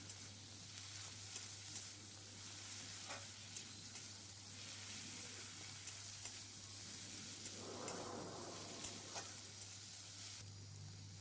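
Chopped tomato with a little salt sizzling and frying in a pan for Bengali egg curry, a steady close sizzle with occasional stirring scrapes, no talking.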